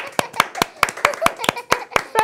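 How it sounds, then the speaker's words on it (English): Children clap for a girl after a card magic trick, a handful of distinct, fairly loud claps in a loose, uneven rhythm, with a little voice activity mixed in. "Let's give her a big clap."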